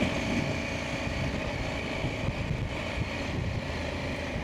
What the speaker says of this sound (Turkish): bugün fırtına düzeyinde Urla civarında rüzgar var